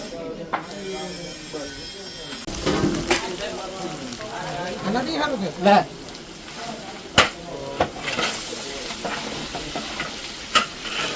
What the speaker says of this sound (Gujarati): અમારે અશ્વિનભાઈ શાક વઘારી નાખ્યું છે